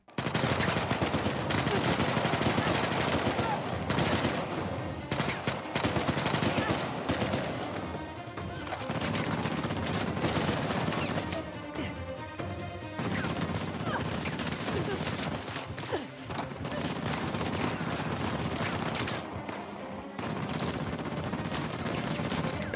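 Sustained gunfire in the video game Uncharted: The Lost Legacy, dense bursts of shots and automatic fire with explosions across a long battle, loud and near, with brief lulls and game voices underneath.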